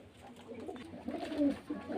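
Soft coos of young pigeons murmur close by in low, rolling phrases, with a slightly louder burst near the middle, amid faint background noise.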